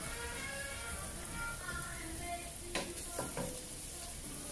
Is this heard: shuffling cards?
no